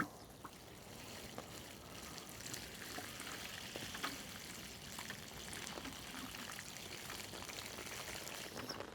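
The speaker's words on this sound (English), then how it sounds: "Give them their first watering now." Water is poured steadily onto strawberry hanging baskets in a soft, continuous trickle and patter, fairly quiet and without talk throughout.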